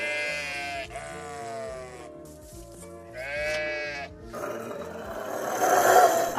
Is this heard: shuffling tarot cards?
no